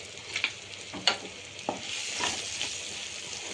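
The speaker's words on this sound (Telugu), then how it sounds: "చూడండి చక్కగా ఫ్రై అవుతుందో" Chicken samosa filling frying in a pan on a medium stove, soft steady sizzling with a few stirring scrapes and pops, close and moderately quiet, no talking.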